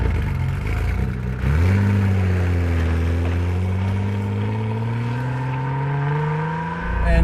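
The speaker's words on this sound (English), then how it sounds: "Inline 6 firing to life." A rally-prepared Datsun 240Z with an inline-six engine runs steadily while driving on tarmac, its engine tone climbing gradually in a smooth, continuous drone that stays close and fairly loud throughout.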